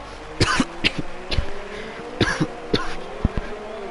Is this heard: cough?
yes